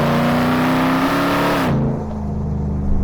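A Hennessy Mammoth 1000 pickup truck engine accelerates loudly at close range, a steady rising drone that drops in pitch at a gear change partway through, then continues as a lower rumble.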